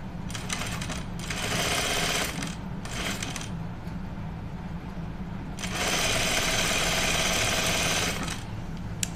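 A sewing machine stitches the lining of a Cascade duffle coat in several quick bursts of rapid whirring, separated by short pauses, with a longer run near the end.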